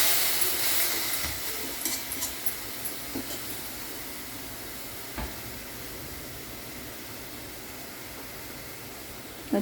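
Fenugreek leaves sautéed in a kadhai and stirred with a spoon, making methi bhaji: a steady soft sizzle runs throughout, with occasional light scraping clicks from the spoon and no talking.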